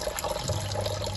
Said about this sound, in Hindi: इसके साथ ही मैं इसमें पानी डालूंगी